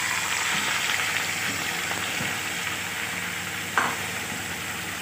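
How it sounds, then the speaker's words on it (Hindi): Chicken pieces fry in three to four tablespoons of hot oil in a pan, a steady close sizzle with occasional light stirring clinks and a small scrape near the end. "इस चिकन को मैं अच्छी तरह से इसमें फ्राई कर लूँगी।"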